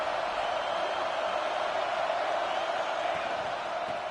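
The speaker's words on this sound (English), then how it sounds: "This crowd bringing an ear-splitting welcome to their visitors." A football stadium crowd at Nebraska versus Wisconsin roars in a steady, loud, unbroken wall of cheering that holds level throughout with no distinct individual voices.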